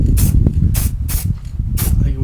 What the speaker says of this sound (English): So let's get that sprayed.